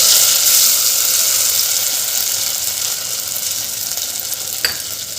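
Ground spice paste frying in hot oil after mustard seeds and cumin, for a pigeon-pea curry, giving a loud, steady crackling sizzle throughout with a brief utensil tap near the end.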